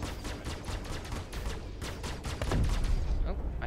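A missile launches in Star Citizen during a fight with M50 ships. Rapid crackling fire runs throughout, then a rising rushing whoosh swells near the end, loud and close.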